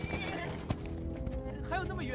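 A horse whinnying and hooves clip-clopping, blended under a narrator's voice speaking throughout, with a sharp neigh rising near the end.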